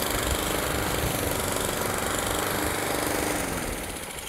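A lawn mower drones loud and steady, close by, while it cuts a Bermuda grass lawn, the engine note holding constant before easing slightly near the end.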